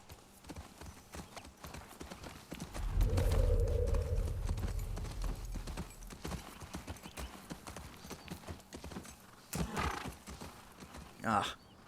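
Horse in The Last of Us Part 2 video game, a clear neigh followed by clip-clopping hooves at moderate distance, with a player talking throughout and another whinny near the end.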